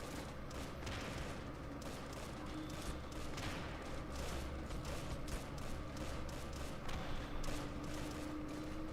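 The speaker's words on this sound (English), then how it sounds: "Mortar is now opening up again, realizing that it's not under immediate threat of counter battery." Mortar fire from a strategy game running Robz Mod sounds as a faint, busy battle backdrop, with repeated dull thumps and crackling shots mixed into steady low rumble.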